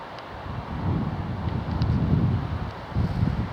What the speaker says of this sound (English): the wind's really picking up now